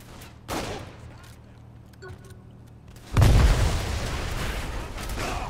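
A vehicle exploding in Saints Row The Third Remastered on PS5, a brief pop followed by one loud, deep blast with rumbling debris that trails off, preceded by quieter game ambience.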